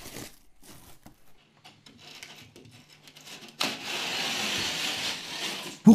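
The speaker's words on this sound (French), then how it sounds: "je tranche un premier côté du carton avec ma lame de cutter" Utility knife blade slicing through the paper face of a sheet of plasterboard while building a bathroom, a soft scraping drag that swells into a loud, steady rasping cut over the last couple of seconds, heard alone without talk.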